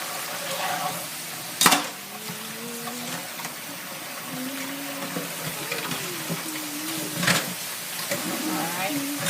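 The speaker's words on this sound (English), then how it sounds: "Alright, so I'm just cleaning out this pot." Water running into a cooking pot during cleaning, a soft steady splash interrupted by a couple of sharp clanks of the pot, with someone talking quietly over it.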